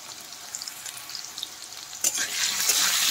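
Salted, turmeric-dusted potatoes frying in hot mustard oil: a quiet crackle at first, then a bright, loud sizzle surges as they hit the oil and keeps going, close up with no voices.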